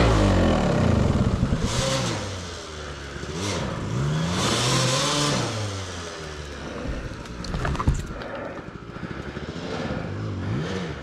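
A car engine revs repeatedly on a snowy mountain road, the pitch rising and falling in several strong surges with a sharp clatter near the end, loud and continuous with no talking.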